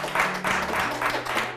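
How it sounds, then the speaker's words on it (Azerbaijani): A studio audience on an Azerbaijani show claps in a short, uneven burst, moderately loud, with a faint low tone lingering underneath. "Alqışlayırıq."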